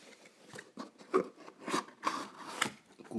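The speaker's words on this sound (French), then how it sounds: "couper les scotch." A knife slicing through tape on a Dragon Ball Z Cell figure box makes a series of short, quiet scraping and crinkling cuts, close up and alone.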